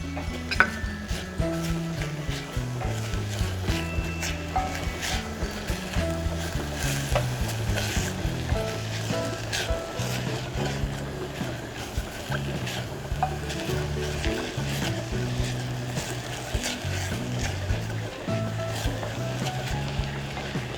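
Onions sizzle steadily in a pan for beef curry bread filling, a continuous frying crackle with occasional stirring clinks, moderately loud and close, with no talking over it.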